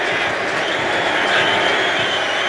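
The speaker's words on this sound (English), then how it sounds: "And the New England fans here cheering Tom Brady." Football fans in the New England stadium cheer Tom Brady, a broad, steady crowd roar filling the whole stretch at a distance with no clear individual voices.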